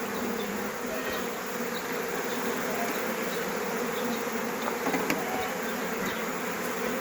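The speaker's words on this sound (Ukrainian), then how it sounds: "От наші бджолки." Honeybees at an open hive frame fill the air with a dense, steady buzzing that carries on throughout, close and unbroken, with no talk over it.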